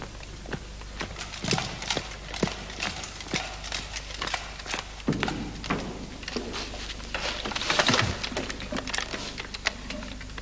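Horse hooves clip-clop in an uneven, steady rhythm of sharp knocks over about ten seconds, close and fairly loud, with some shuffling and a brief snort-like burst near the end.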